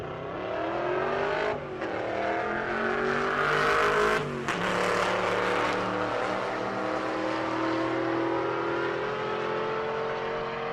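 A Chevrolet Stingray Corvette race car roars past during a race-week event, a loud, steady engine drone with a brief dip near the start and a swell midway as it goes by, without talk.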